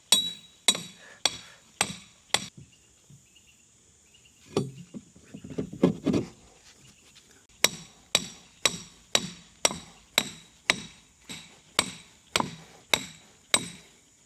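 Hammer blows drive 3/4-inch steel rebar down through stacked 6x6 wooden timbers. The strikes land in sharp metallic bursts, a steady run, then a pause filled with scraping and handling noise, then another regular series of ringing hits.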